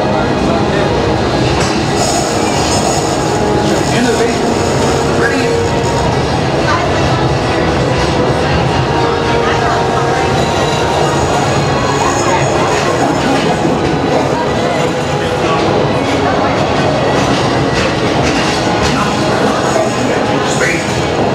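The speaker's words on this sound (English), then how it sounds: "Locomotive maintaining trajectory." Walt Disney World Railroad train at Magic Kingdom rolling steadily along the track, a continuous loud rumble of wheels and carriages with faint rail squeal, heard close throughout.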